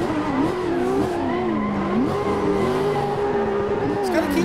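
A race car drifting in a PC racing game, engine revving up and down in sweeping pitch bends while tires squeal continuously; loud and close, with a voice talking over it.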